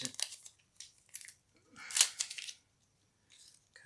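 Scissors snipping through paper or plant material in several short, crisp bursts separated by silence, close and fairly quiet.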